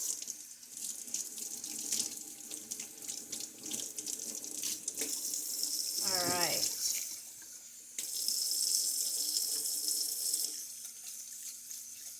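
Water runs steadily from a kitchen tap into a container while mozzarella is being made, a continuous near splashing hiss that briefly shifts in pitch as the vessel fills, then resumes.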